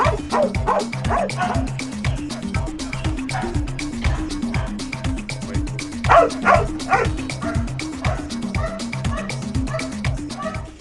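A Belgian Shepherd dog barks and yips in steady, repeated bursts at close range, with whimpers mixed in and a few louder barks partway through, continuing throughout.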